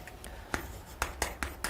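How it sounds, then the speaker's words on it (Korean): Marker or chalk strokes tap and scrape across a classroom board in a quick series of short, distinct scratches while a tip is written, close and moderately quiet. "팁을 여기다 써볼게요."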